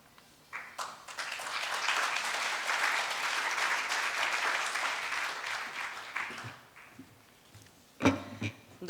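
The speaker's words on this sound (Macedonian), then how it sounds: "Еве се приближува кон сцената да ја поздравиме уште малку со аплауз Даниела Ташевска-Малева" An audience at an awards evening for successful women managers breaks into sustained applause as Daniela Tashevska-Maleva approaches the stage, building quickly, holding for several seconds, then fading into scattered claps and a short bump near the end.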